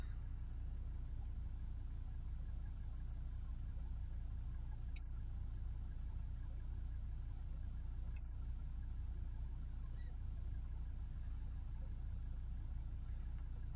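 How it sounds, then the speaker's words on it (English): Car engine idling steadily during an HHO hydrogen carbon cleaning treatment, a continuous low rumble that stays even throughout with no talk, only a couple of brief faint clicks. "Now it's idling. We'll let it idle for a minute, see if it's increasing or decreasing."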